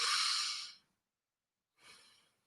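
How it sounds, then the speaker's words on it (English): Two deep breaths let out through the nose during a seated relaxation exercise, a long, airy exhale followed after a pause by a shorter, softer one, close and quiet with no talking. "Sit upright and then release through the nose, releasing it, releasing it, releasing it."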